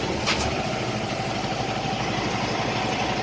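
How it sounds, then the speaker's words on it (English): The Cummins diesel engine of a 2019 Kenworth semi truck runs at a steady, rumbling idle close by, with a couple of faint clicks early on. "Start it up. Let's listen to that good old Cummins motor."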